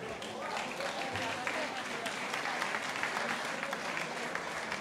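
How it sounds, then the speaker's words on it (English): An audience at an MMA event claps and cheers after a fight, a sustained, moderately distant wash of applause mixed with crowd voices throughout. "give them one more time a big hand"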